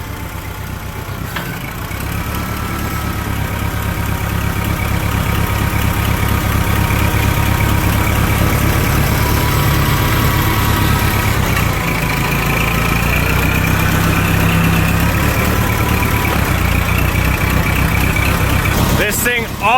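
An old tractor engine cranks and catches with the choke pulled, then settles into a loud, steady low rumble at idle close by, running continuously to the end.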